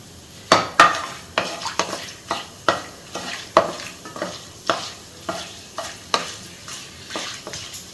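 Whole spices, including cloves and cardamom, fry in hot oil for a roadside-style parotta salna, with a steady sizzle and regular clinks of a spoon stirring against the pan roughly twice a second.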